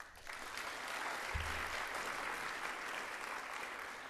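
At a Climate Commission community forum in Bunbury, an audience gives a sustained wash of applause throughout, steady and broad, with no distinct cheering.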